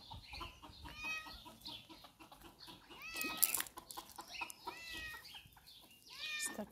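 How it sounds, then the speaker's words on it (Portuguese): Hungry farmyard chickens cluck in short, repeated bursts, mixed with several louder meow-like calls from a cat nearby. "E as nossas galinhas tá morrendo de fome."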